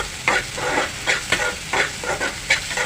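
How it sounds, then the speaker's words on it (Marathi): Onion sautéing in oil over a high gas flame: a steady frying sizzle with regular louder scraping stirs of a spoon, roughly every half second to second, close and alone without talk. "कांदा परतून घेते गॅसची फ्लेम फास्टच आहे"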